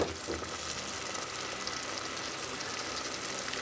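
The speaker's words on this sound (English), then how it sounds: "So now you have to fry ginger garlic paste along with the tomatoes." Ginger garlic paste and tomatoes fry steadily in a pan for fish curry, a dense continuous sizzle that holds at an even, close level throughout with no voices.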